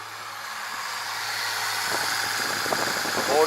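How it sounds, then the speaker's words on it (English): A 1996 Ford Mustang engine idling after starting, a steady low rumble with a faint vibrating rattle that grows slightly louder toward the end. "The motor's running smooth."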